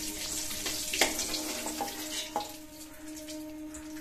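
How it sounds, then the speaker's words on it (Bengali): Eggs fry in hot oil in a pan on a home stove, a soft, steady sizzle with a few clinks and scrapes of utensils against the pan; no talking. "কারণ আমাদের এখন ডিমগুলো খুব সুন্দর করে আমরা এখানটা ভেজে ফেলেছি।"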